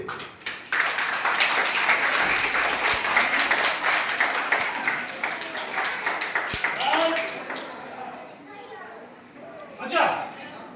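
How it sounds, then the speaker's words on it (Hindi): A hall full of students claps loudly for several seconds, the dense applause thinning and fading toward the end, with voices mixed in. "इनके लिए जोरदार ताली होनी चाहिए।"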